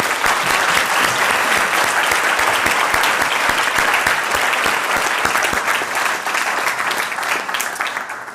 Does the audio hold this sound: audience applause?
yes